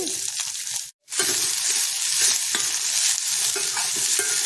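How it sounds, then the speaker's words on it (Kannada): Onions fry in oil in a pan while being stirred, a continuous bright sizzle broken by a brief silent gap and scraping stir strokes, with no voices. "ಈಗ ಅದೇ ಬಾಣಲೆಗೆ ಎಣ್ಣೆ ಹಾಕ್ಕೊಂಡಿದ್ದೀನಿ ಈರುಳ್ಳಿ ಎಲ್ಲ ಹಾಕ್ಕೊಂಡು ಹುರಿತೀನಿ"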